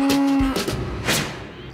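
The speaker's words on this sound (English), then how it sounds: "once they're finished milking, the clusters just fall off and the cows head back to the barn" A dairy cow moos once, loud and close, after milking as the herd heads back to the barn, followed by heavy thuds and the broad noise of the shed.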